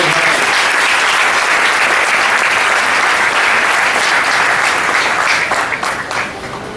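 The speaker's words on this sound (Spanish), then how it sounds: "Den un aplauso a Jesucristo." Loud, sustained applause from a church congregation during a Spanish-language service, dense clapping that holds steady and then eases slightly near the end.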